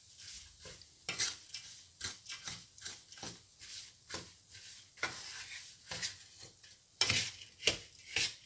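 Brown sugar being stirred into a khoya mixture in a pan for Punjabi pinni, with repeated scraping strokes of a spoon against the pan roughly once a second over a soft sizzle, close and fairly quiet.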